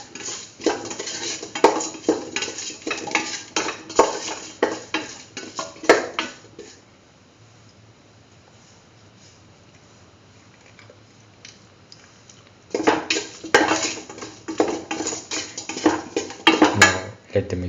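A spoon stirs and scrapes through a curried beetroot and mung bean mixture in a pot, with bursts of clattering metal contact, a quiet pause in the middle, then brisk mixing again.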